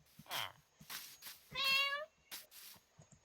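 Cat meowing in Minecraft: a single drawn-out game meow stands out clearly between short bursts of other game sounds and faint voice fragments.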